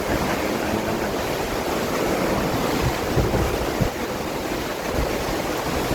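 Strong wind buffeting the open deck of a cruise ship off Estonia, a loud, steady roar of gusts and microphone rumble with water rushing beneath, no voices.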